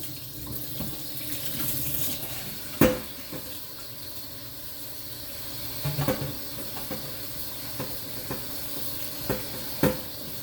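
Cold tap water runs steadily into a sink with a soft hiss, broken by occasional knocks and splashes as vegetables are rinsed.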